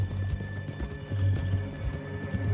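Horse hooves in a video game clip-clop at a steady trotting pace under a low rumbling backdrop, with the sound of the animal close by.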